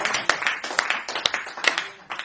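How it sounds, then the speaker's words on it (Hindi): A live studio audience claps for a poet at a Hindi humorous poetry recital, a short burst of scattered, uneven handclaps without any speech. "मैं चाहता हूं चस्ती स्टूडियो को देखने वाले दर्शक फारूक भाई का जोरदार तालियों से स्वागत करें।"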